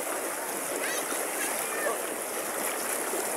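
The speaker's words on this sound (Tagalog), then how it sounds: "Grabe ka lakas ang agos." A strong river current rushes past, making a steady, close, hissing wash of water with small splashes throughout, while people talk faintly over it.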